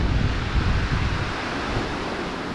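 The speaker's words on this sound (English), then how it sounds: "If it wasn't for this wind, man, it'd be a lot warmer." Gusty winter wind along a river during walleye fishing buffets the microphone with low, rumbling gusts that swell at the start and then ease slightly, loud and close with no talking.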